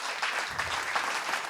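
Audience applause from a Tamil children's language competition show, a steady burst of clapping heard alone at moderate volume for a moment.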